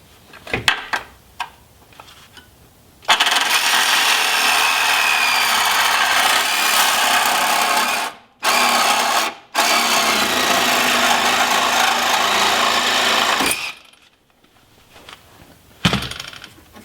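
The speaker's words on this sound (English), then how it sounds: "I think what I'll do is just take my Sawzall and cut the edge off right here." A Sawzall reciprocating saw cuts the metal edge off a Jeep XJ unibody part in long, loud, continuous bursts with a rapid buzzing rasp, broken by a couple of brief pauses and followed by quiet clanks.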